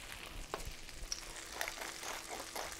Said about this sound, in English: We want to brown that butter for a little bit and make sure we get a little more flavor.